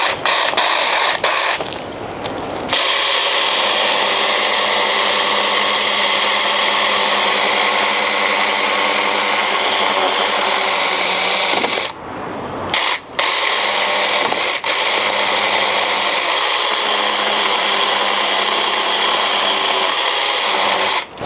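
A cheap saw cuts through a tree branch with a loud, continuous rasping drone that runs for nearly twenty seconds, broken by a few brief pauses near the start and midway.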